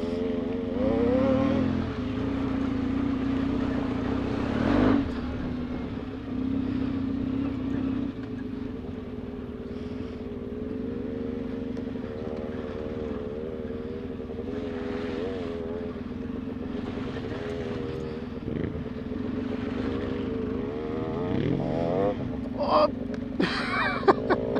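An off-road motorcycle engine buzzes like a wasp through a muddy off-road ride, a steady droning hum running throughout with small revving swells near the end.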